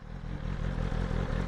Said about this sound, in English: Beautiful Akrapovic exhaust.